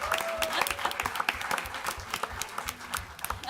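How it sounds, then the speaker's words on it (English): Audience applause at a city council meeting in Springville, a steady dense patter of many hands clapping close by, with faint voices mixed in. "So one more round of applause for Haley"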